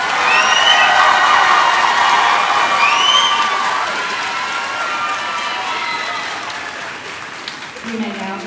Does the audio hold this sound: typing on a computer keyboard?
no